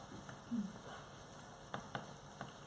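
Alaskan pollock fillets frying in a pan with chorizo, a soft steady sizzle at low level broken by a few brief crackling pops near the end.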